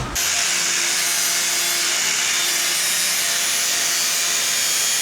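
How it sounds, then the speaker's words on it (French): An angle grinder's disc rounds off the edge of a metal body panel on a BMW E90 being fitted with a fibreglass wing, a steady loud high-pitched whine running continuously and alone throughout. "Un petit coup de disque à la mettre là, juste histoire d'arrondir un peu la partie de là."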